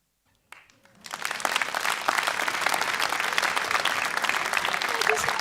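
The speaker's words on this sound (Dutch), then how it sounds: "Groot applaus voor Mila!" After a moment of quiet and a brief murmur, an indoor audience at a children's recitation contest bursts into sustained, dense clapping that holds steady to the end.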